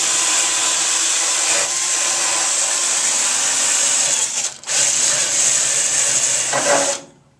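A loud, steady high-pitched drill whines continuously while boring into eastern red cedar wood, briefly pausing midway before resuming, then cutting off at the end.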